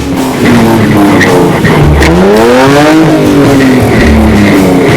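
Loud, continuous roar of V8 racing engines at the Bull Run motor event, with rising and falling revs as cars accelerate and pass, under a constant dense engine drone and occasional tire squeal.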